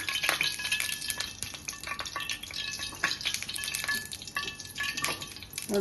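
Fenugreek seeds, dried chillies and curry leaves fry in hot oil for a Karnataka majjige huli, giving a steady close sizzle with crackling pops and light stirring scrapes, with no talk.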